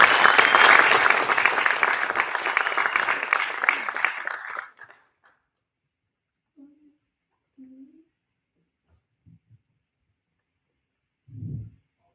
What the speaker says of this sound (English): let's give a warm applause to Tina